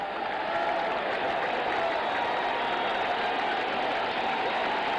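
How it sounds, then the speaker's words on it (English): Steady crowd applause and cheering fills a large stadium at a Giants–Mets baseball game, sustained and even throughout, with a low murmur of the crowd beneath it. "The applause here is for that score"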